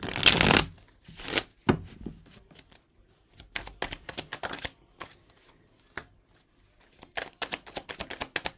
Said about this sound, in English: Let me get some advice cards.